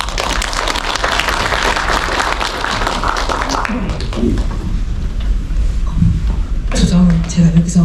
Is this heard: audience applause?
yes